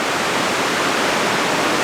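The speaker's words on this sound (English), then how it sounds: "our channel is overflowing. Yeah, look at that. There is like so much water" Rainwater gushes over an overflowing drainage channel beside a big top circus tent, a loud, continuous broadband rush with no pauses and no voices.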